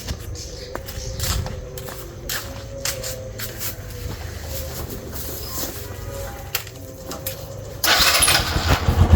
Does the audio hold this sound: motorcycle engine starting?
yes